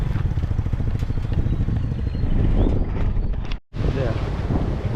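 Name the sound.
wind blowing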